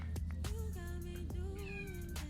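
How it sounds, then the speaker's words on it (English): A house cat meows at a door, wanting to come in, a few close, clear, drawn-out cries with short gaps between them and no talk. "That's my cat. He wants to come in and get up on my vanity"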